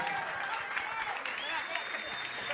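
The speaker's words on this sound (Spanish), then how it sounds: "un fuerte aplauso para ellos, esta terrible exhibición de freestyle." Crowd applause at a freestyle rap battle event on stage, loud continuous clapping and cheering, with a voice talking over the noise.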